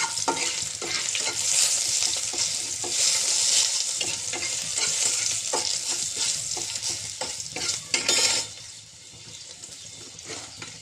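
Garlic sizzles loudly in hot oil while greens fry in a pan, with a steady bright hiss and the clatter of stirring, until the sizzle drops off near the end.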